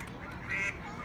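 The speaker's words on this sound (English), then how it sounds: "Those are Canadian geese. And there's some ducks back there." A single brief goose honk, from Canada geese with ducks nearby outdoors, rises over low rumbling background noise for about a second.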